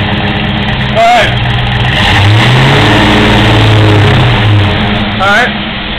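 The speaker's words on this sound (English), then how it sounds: "Give it a little gas. Sounds good." A Ford Mustang Fox Body coupe with a stick shift, idling up close and then revving a few times, its loud low rumble rising and falling in swells, with people talking briefly over it.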